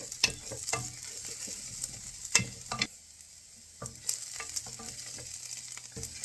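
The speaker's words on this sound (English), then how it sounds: "Next step is I'm going to add 4 cloves of garlic chopped up, just a rough chop, and we are going to let that cook as well." Roughly chopped garlic cloves sizzling in a pan for heirloom tomato soup, a soft steady frying hiss broken by scraping stirs and small clinks, close and fairly quiet with no talking.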